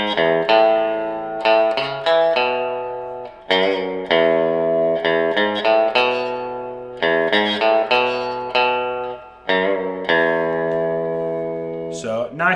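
A clean electric guitar plays a melodic riff, ringing notes and chords, each washed in lush reverb that lingers between phrases.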